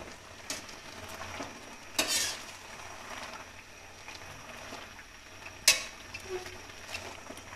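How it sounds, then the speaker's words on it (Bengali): Boiled taro greens (kochu shak) in a wok, cooked with hilsa fish head, with a low steady sizzle under occasional sharp metal scrapes and utensil clinks, fairly quiet overall. "আবার সিদ্ধ কচু শাকটা কড়াইতে দিয়ে দিলাম।"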